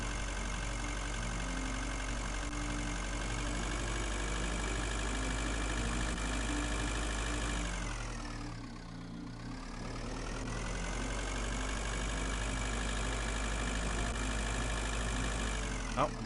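Engine of the Space Car, a fast vehicle in a video game, droning steadily and loudly with a harmonic hum that dips briefly midway before returning to a constant roar.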